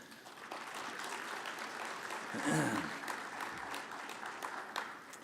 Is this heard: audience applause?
yes